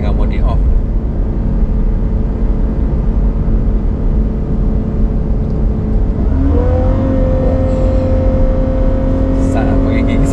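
Ferrari FF engine accelerating in first gear, heard from inside the cabin through double-glazed windows, as a muffled rising drone whose pitch climbs steadily toward the end under a continuous low rumble.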